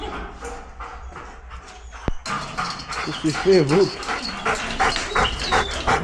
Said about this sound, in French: Donc là, on sort les chiens.